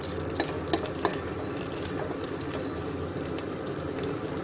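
Ginger and garlic fry with onion in a pan, giving a steady dense sizzle with a few sharp scraping clicks from stirring near the start, close and continuous with no talking.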